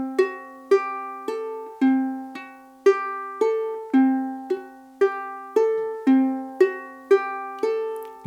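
Ukulele playing a campanella etude arpeggio, open strings ringing into one another; a steady cycle of about fourteen plucked notes repeating evenly, close and clear with long sustain and no talking.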